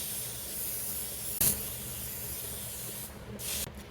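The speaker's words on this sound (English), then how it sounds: "spray the pan with some nonstick cooking spray" Nonstick cooking spray hisses continuously from a can onto a cake pan for an apple cake, with a short bump partway through and a couple of brief breathy bursts near the end.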